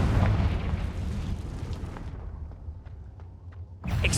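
A Confringo fire spell explodes in the Hogwarts Legacy video game, a loud low boom that opens the clip and rumbles on, fading into a quieter tail before another heavy blast hits near the end.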